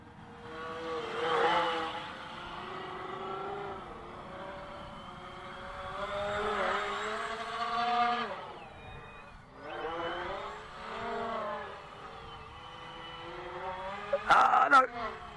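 Electric motors of a foamboard VTOL tail-sitter model aircraft whine at full throttle, rising and falling in pitch as the plane maneuvers, heard from a moderate distance.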